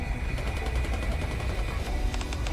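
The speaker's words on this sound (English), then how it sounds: "I like how the scenes are like transitioning just through gunfire." Gunfire in a Goddess of Victory: NIKKE cutscene, rapid bursts of automatic shots crackling over a dense, rumbling battle backdrop, loud and continuous, with a quicker cluster of sharp cracks near the end.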